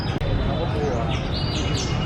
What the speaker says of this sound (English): it's a guy blowing a whistle